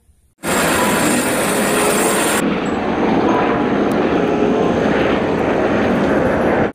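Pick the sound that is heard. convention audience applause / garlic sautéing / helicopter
helicopter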